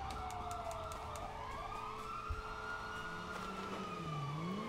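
Police sirens wail in GTA 5, sliding up and down in pitch from more than one source, with traffic rumble below and no voices.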